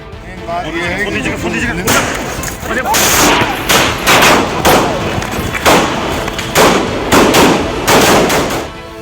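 Loud, close gunshots ring out in a rapid, chaotic volley during news footage of a shooting, with sharp cracks repeating over a noisy crowd and voices.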